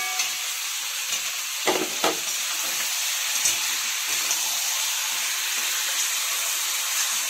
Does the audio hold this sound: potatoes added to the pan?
yes